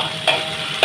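Garlic, onion and chilies stirred in a frying pan for Maggi noodles, heard as two quick, close spatula knocks against the pan over a faint steady background.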